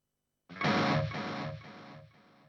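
A lead guitar tone run through a POD HD Pro's digital delay rings out with a loud distorted attack, then sustains and fades as the echoes trail off, with no one talking.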